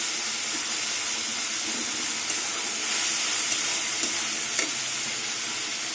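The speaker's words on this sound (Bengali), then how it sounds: "এবার টমেটোগুলো ভেঙে দেবো।" Tomatoes fry in oil spiced with turmeric, chili powder and slit green chilies, with a steady close sizzle and hiss and a few soft scrapes as they are broken up and stirred in the pan.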